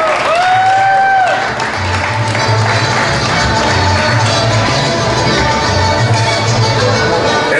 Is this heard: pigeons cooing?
no